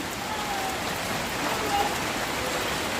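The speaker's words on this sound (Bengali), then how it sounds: "এই যে ঝিমঝিম করে বৃষ্টি পড়েই যাচ্ছে" Steady rain patters continuously on surfaces nearby, an even hiss with no pauses throughout.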